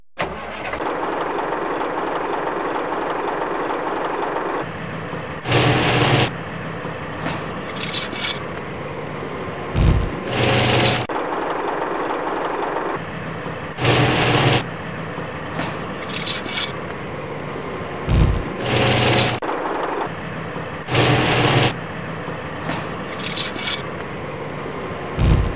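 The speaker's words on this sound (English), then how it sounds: "Bulldozer." Hasbro Tonka toy bulldozer gives off repeated bursts of a toy engine and mechanism sound, each a couple of seconds long, with a steady electronic hum and short gaps between.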